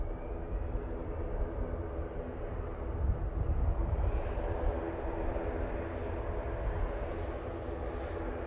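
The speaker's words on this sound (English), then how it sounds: "Jet2 A321 CEO now on the roll" Jet2 Airbus A321ceo rolling for takeoff at Manchester Airport, a steady distant engine roar that swells slightly midway, wind-brushed and with no talking.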